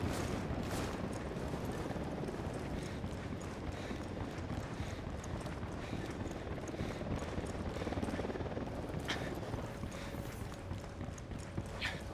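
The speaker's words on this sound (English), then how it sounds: "chopper incoming." A helicopter approaches in Ghost Recon Wildlands, its dense, rhythmic rotor chop building steadily and filling the scene, with no talking.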